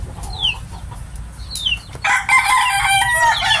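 A McLean Sweater and Gilmore crossbreed gamecock crows up close and loud in a short, raspy call after a few soft clucks and chirps.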